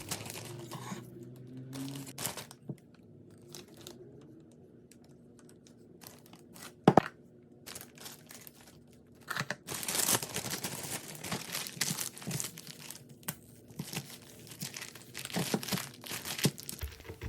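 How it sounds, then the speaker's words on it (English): A Ziploc bag of pesto ingredients is squeezed and sealed, with soft intermittent plastic crinkles and crunches, a sharp snap partway through, then denser rustling handling close by. "combine all the remaining ingredients into a Ziploc bag, press out all the air,"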